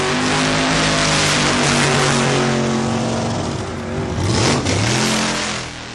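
An AA fuel dragster roars down a quarter-mile drag strip at the 1977 September Internationals at Santa Pod, a loud, continuous engine blast with sweeping pitch changes that swells again briefly before easing off near the end.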